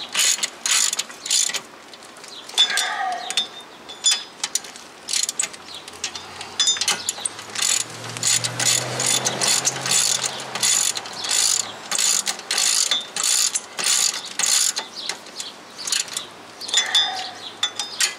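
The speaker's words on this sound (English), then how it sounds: "Now go ahead and snug down all your 17 millimeter bolts" Rapid clicking of a ratchet snugging down 17 mm rear wheel bearing bolts on a 2011 Toyota Highlander AWD, steady close metallic ticking in repeated bursts with a short low hum midway.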